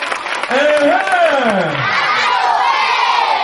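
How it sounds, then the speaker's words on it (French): A crowd at a children's event in Treichville, with loud shouting and cheering voices rising together, sustained and close, where clapping is probably mixed into the roar. "On applaudit très fort."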